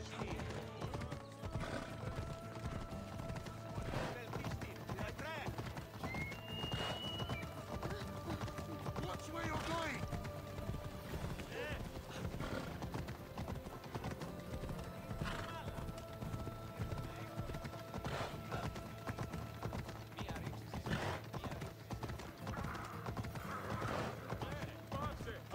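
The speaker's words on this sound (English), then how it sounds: "I like how we're just riding horses through this." Horses' hooves clip-clopping steadily during a ride in the video game Assassin's Creed Odyssey, a continuous mid-level trot with occasional whinnies, heard under game music and speaking voices.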